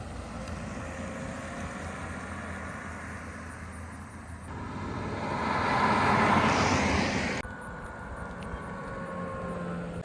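A 2023 Ford Mustang Mach-E GT electric car passes by outdoors, a soft whoosh of tires and motor swelling briefly in the middle before fading, faint against quiet background hiss.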